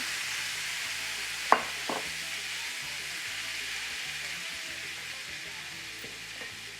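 Vegan carne asada searing in an oiled pan over high heat, a steady close hiss of frying with a sharp clatter as it hits the pan, then quieter sizzling.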